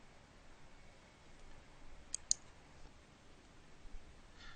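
Two quick, faint mouse clicks land close together in an otherwise quiet room, as the OK button is pressed.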